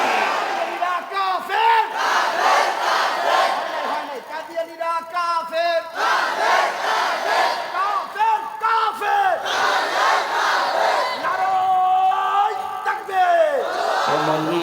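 A large crowd at an outdoor Islamic religious gathering in Mymensingh roars the takbir response in loud, repeated bursts of unison shouting, with a leader's calls between them.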